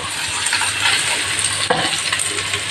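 Chopped onion sizzling in hot oil in a home kitchen pan, a continuous bright frying hiss with a brief stirring clatter near the end, close and steady, no voices.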